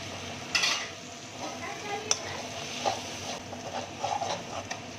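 A snake gourd and shrimp chorchori dressed with raw oil is stirred gently in a pan, giving a soft sizzle with scattered scraping and clinking of a spoon against metal.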